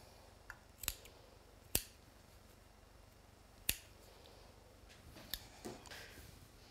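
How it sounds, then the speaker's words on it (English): Scissors snip through yarn hank ties while yarn is being wound for crochet nesting baskets, four or five crisp, isolated cuts spaced a second or two apart in an otherwise quiet room. "I'm just gonna go ahead and cut each of these ties, just like before, remove the extra."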